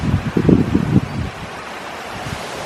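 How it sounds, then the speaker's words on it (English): Wind gusting through a garden of celosia plants, a broad rushing whoosh with leafy rustle and microphone buffeting, loud at first then easing into a steadier soft hiss. "There's some more of that wind I was telling you about."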